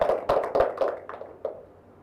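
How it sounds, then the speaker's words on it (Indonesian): A brief burst of hand clapping from a small classroom audience, applauding two students in a microteaching lesson; several quick claps that thin out and fade within two seconds, close by and without talk. "Kasih aplaus buat Tiffany sama Rebecca."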